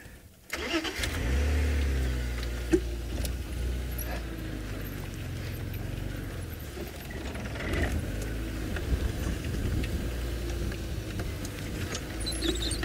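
A safari vehicle's engine starts and idles close by as it reverses toward animals, a steady mid-pitched rumble with occasional clunks and knocks over the running motor.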